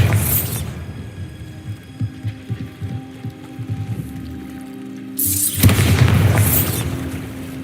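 A Bombarda blasting spell in Hogwarts Legacy goes off as a dull boom with a crackle of debris. A sharp burst of magic sounds near the start and again later, with softer thumps and clatter in between.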